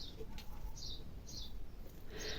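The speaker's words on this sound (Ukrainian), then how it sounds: "Горобці цвірінькають десь." Sparrows chirp somewhere outdoors in the distance, a few faint, short high tweets scattered over a steady background hiss.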